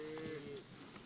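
A single cow moos once, a clear drawn-out low call lasting about half a second against steady outdoor background noise, with no voices.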